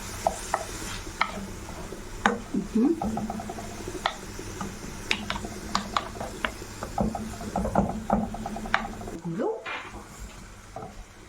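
Chopped onions fry in a pan for a Tunisian omelette, a soft steady sizzle broken by scattered clinks and scrapes of a utensil stirring against the pan.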